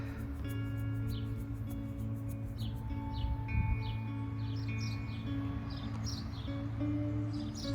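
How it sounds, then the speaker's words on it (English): Songbirds chirp and trill repeatedly in a rose garden along a walkway, their small calls scattered over a steady low background hum, moderately near and continuous. "I love hearing the birds talking with each other."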